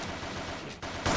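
Rapid gunfire in the video game OP7 pours out as a dense, continuous burst of shots for about a second, loud and close, with no speech over it.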